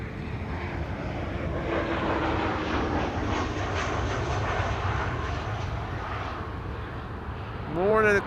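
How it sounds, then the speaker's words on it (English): A KLM Boeing 737-800, 26 years old, arrives at Amsterdam Schiphol with a loud, steady broadband jet roar that holds throughout and swells slightly near the end, close by. "This is KLM flight 1852 arriving from Munich. This is a 737-800"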